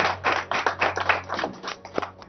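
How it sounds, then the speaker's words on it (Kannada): Applause from an audience at a Prajaakeeya party candidates' gathering, a dense run of many hands clapping with a steady low hum underneath, moderately loud and continuous for a couple of seconds. "ಚಪ್ಪಾಳೆ ಪ್ಲೀಸ್."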